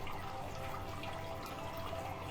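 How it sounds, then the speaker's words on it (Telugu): A pure silver decorative water fountain with water gently falling at low pressure, making a soft, steady trickle and splash that stays faint and even throughout with no talk. "ఇక్కడ ఎక్కువ ప్రెషర్ కాకుండా నార్మల్గా వాటర్ పడుతుంది అనమాట దానిలో"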